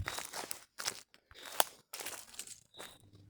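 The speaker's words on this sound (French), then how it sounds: "On entend le sol qui croustille sous mes pieds" Footsteps crunch on dry ground on a mountain slope at about 1500 metres altitude, a series of close, crisp crackling steps at a walking rhythm with short gaps between them.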